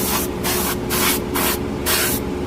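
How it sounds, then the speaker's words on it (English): A Harder & Steenbeck Evolution Silverline airbrush sprays a light mist coat of primer in five short, even hissing bursts separated by brief gaps, close up with no talking. "I'm doing a mist coat for now."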